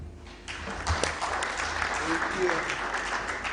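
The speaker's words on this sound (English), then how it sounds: "Another proper round of applause" Applause from a convention audience for a speaker at a diaspora homecoming gathering, steady clapping throughout with brief talk at the start.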